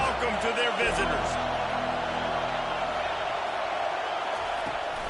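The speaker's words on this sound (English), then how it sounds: "This crowd bringing an ear-splitting welcome to their visitors." A stadium crowd at a Penn State home college football game against Oklahoma State roars in a loud, steady wall of noise, with a commentator talking over it.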